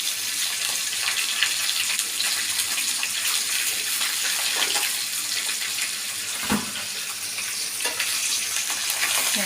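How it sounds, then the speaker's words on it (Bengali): Rohu fish pieces frying in hot oil, a loud, dense, continuous sizzle with crackling spatter close by and one sharper pop partway through. "আমার মাছগুলো অনেক সুন্দরভাবে ভেজে উঠে আসছে"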